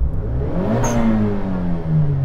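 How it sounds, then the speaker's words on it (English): Small turbocharged three-cylinder kei car engines revving at a drag race, a mid-pitched buzzing rev that climbs and falls, topped by a short sharp hiss from a blow-off valve. "let's rev up these little engines, these little 3-pot turbos. Oh, yeah, loving that blow-off valve."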